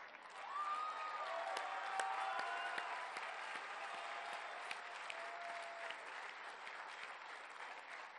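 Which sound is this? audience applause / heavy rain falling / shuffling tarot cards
audience applause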